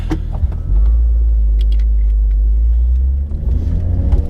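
A Porsche 911 Dakar sports car engine rumbles deeply and steadily with its sport exhaust on, close by, swelling as the car pulls away, with faint clicks and knocks over the low drone.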